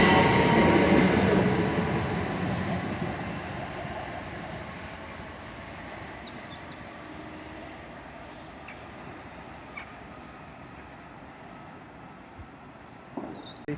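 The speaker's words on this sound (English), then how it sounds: "passing through now is a cross-country service from Manchester Piccadilly to Southampton Airport Parkway." Cross-country passenger train from Manchester Piccadilly to Southampton Airport Parkway passing through Pangbourne station, a loud rushing rumble that fades steadily as it moves away, leaving faint rail clatter and a few distant clicks.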